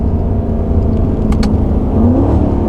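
A C7 Corvette engine hums and revs steadily up close, a continuous mid-pitched drone that swells slightly toward the end, with a couple of brief higher chirps.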